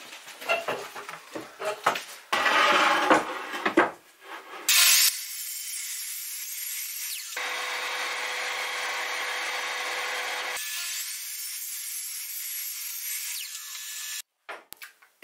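A power tool cuts the irregular handle pieces of a wooden mallet made from reclaimed wood. Scraping and sawing noises come first, then a loud, sustained steady whine that holds for several seconds and stops abruptly.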